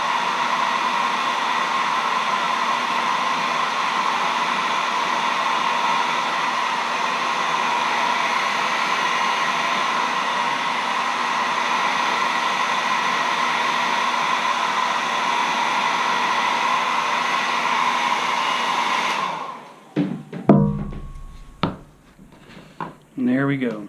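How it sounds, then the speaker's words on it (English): A hair dryer blows steadily on a freshly painted carved wooden caricature letter opener, a loud, constant whirring hiss that runs for about twenty seconds before cutting off, followed by a few close knocks and handling clatters. "Give me a second to turn on the hairdryer,"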